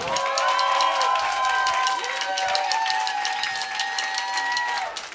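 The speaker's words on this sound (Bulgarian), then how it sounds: "Още веднъж моля за силни аплодисменти." Audience applause for the pianist at a live concert in a club, continuous dense clapping and some cheering under lingering sustained musical tones that fade near the end.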